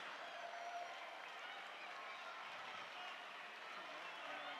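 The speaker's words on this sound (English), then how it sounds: "Hearing cheers from the crowd for both of these two." Crowd cheering and applauding at an indoor rowing sprint race, a steady distant wash of cheers and claps lasting throughout with no single burst standing out.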